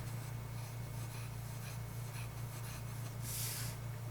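Retractable fountain pen with an old steel nib scratching across paper, a faint continuous scribbling rasp with a brief louder stroke near the end.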